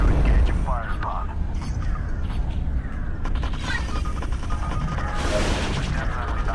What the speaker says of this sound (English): Oh shit. Lasers!